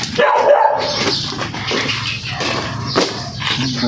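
A dog barks repeatedly near a woodpile in Dulong Bayan, Quezon, where a cobra has hidden; the barks come loud and close in quick uneven bursts over background murmur.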